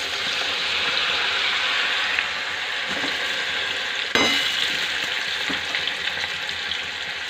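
Shredded potatoes for jhuri aloo bhaja fry in hot oil with a dense, steady sizzle, close and loud, broken by a few light scrapes and a sharper clink as the pan is stirred.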